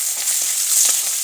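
Onions and bay leaves sizzle in hot oil with a steady, bright hiss and faint crackling for a short stretch, with no voices.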